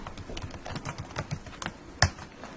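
Computer keyboard typing produces a quick run of light, close key clicks in an uneven rhythm, ending with one sharper keystroke.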